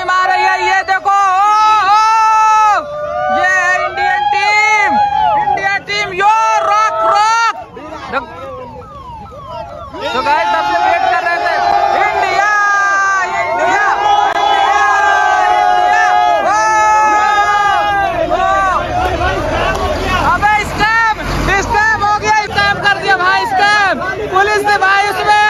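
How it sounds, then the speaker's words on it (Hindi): A crowd of cricket fans outside Ekana Stadium in Lucknow chants "India, India" in loud, continuous massed voices, with sirens wailing through the din. "इतना हूटिंग हम लोग किया इंडिया इंडिया"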